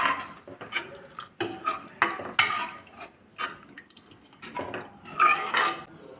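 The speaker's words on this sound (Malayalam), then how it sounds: "നന്നായിട്ടൊന്ന് ഇളക്കി യോജിപ്പിക്കും." A spoon stirs tomato curry in a pan, giving repeated clinks and scrapes of metal on metal with wet, sloshing bits, irregular bursts close by and no talk.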